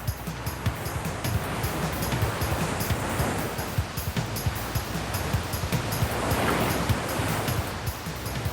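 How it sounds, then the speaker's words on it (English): Turbulent river water roars around huge boulders and bends as it rushes down from the highlands into the jungle, a steady, dense wash of noise with surging swells and no voices. "As the water roars around the huge boulders and bends in the river, it creates treacherous whirlpools"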